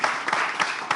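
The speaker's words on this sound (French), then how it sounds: "on applaudit les garçons pour l'aide" Brief burst of applause from a small audience during a live talk show, dense clapping filling the whole second at moderate level.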